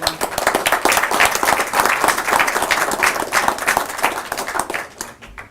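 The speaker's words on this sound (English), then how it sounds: "Another round of applause to you." A room at a city commission meeting gives a loud, sustained round of applause, dense clapping that holds steady before tapering off near the end, with no one speaking.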